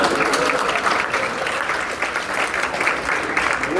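Steady audience applause at a Hungarian folk dance house gathering, even continuous clapping from a crowd, moderately loud with no pauses.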